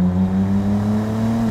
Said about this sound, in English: Let's roll onto the throttle up here.